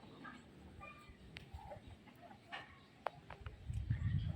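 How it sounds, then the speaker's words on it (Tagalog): Backyard chickens, including bantams, cluck softly and intermittently nearby in a roomy coop, with scattered short calls over low outdoor rustling and a few light knocks. "yung mga manok natin alagang manok natin dito"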